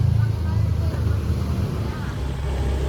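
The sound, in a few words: Honda Beat scooter engine running after restart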